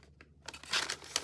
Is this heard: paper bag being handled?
yes